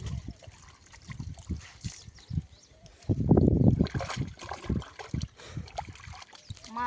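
Clothes being washed by hand in water, with wet sloshing, splashing and dribbling throughout, heaviest around the middle, while someone talks over it.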